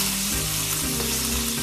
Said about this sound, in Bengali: তাই আমি এখন বাকি সবজিগুলো সব দিয়ে দেবো একে একে।